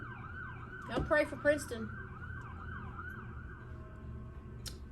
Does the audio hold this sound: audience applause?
no